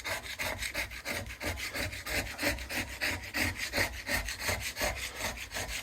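A window scraper works along the wooden rudder of a small boat, giving steady, rhythmic rasping strokes in quick back-and-forth succession, close and fairly loud, with no talk.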